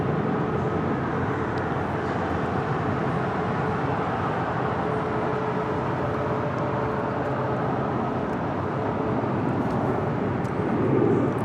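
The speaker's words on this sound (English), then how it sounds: "That is Delta Airlines Flight 845 right there on taxiway Kilo" Boeing 757-200 jet in Delta Airlines livery taxiing on a taxiway at LAX, heard as a steady, broad engine roar held at an even distance, with a faint swell near the end.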